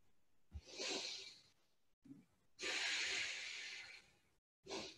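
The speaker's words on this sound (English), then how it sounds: "This is your ujjayi breath. And if it sounds a little bit like you're snoring, then that means you're doing it right." Slow, audible ujjayi breaths during a yoga flow, long hissing throat-constricted inhales and exhales with a faint snore-like rasp, close and soft, separated by short pauses, with no talking.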